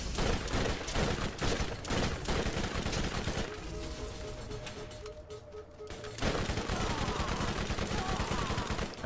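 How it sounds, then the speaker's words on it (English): Turrets in the video game Borderlands fire relentlessly, loud rapid bursts of gunfire that ease briefly mid-clip before resuming at full intensity. "And we'll get these guys shooting at me constantly."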